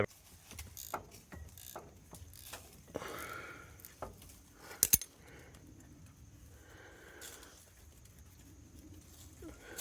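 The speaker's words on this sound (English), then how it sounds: "here you can see I'm disconnecting the front drive shaft from the transfer case" Hand tools work on the front drive shaft where it meets an NP435 transfer case, giving faint, scattered ratcheting clicks, metallic taps and a couple of sharper clanks in a quiet space.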